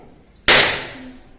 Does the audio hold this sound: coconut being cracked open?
yes